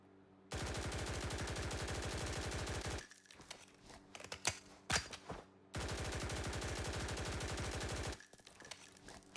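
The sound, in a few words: HK rifle gunfire in video game Blackhawk Rescue Mission 5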